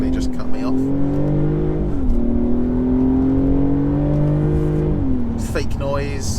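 Cabin drone from a 2021 Mercedes E300 coupe with EQ Boost, its engine note boosted by synthetic augmented sound, rising steadily in pitch through two gear changes, with brief voice sounds near the end.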